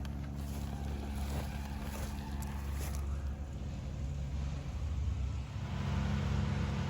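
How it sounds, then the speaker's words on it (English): Wood chipper working somewhere in a residential neighborhood, a faint, distant steady droning rumble with slight swells, heard outdoors under wind-like background noise and no talk. "There goes that wood chipper."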